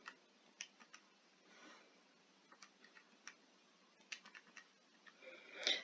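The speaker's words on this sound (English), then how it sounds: "Typing into the calculator." Calculator keys pressed one after another in a steady run of light, sharp clicks, close and fairly quiet, with brief pauses between bursts and no talking.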